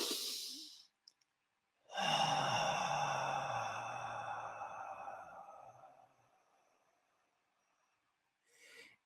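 Slow, deep breath drawn through the mouth during a guided visualization exercise, a long airy exhale-like rush lasting about four seconds after a short earlier breath, close and soft in a quiet room.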